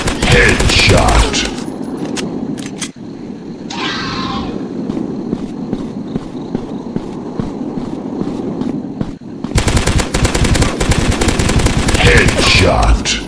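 Dense, continuous gunfire in the dinosaur hunting video game Dinosaurs Hunter, loud rapid bursts filling most of the clip with short breaks, mixed with game effects.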